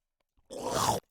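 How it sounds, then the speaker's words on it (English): The chomper creature from The Explorer: 3D Game Kit lets out a single short attack sound, a half-second growling, crunchy bite-like burst that starts abruptly and cuts off cleanly, isolated against silence. "If it goes into the attack state, it will attack."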